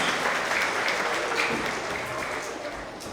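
Continuing applause for first graders at an elementary school award assembly, a steady even mass of clapping that eases slightly toward the end.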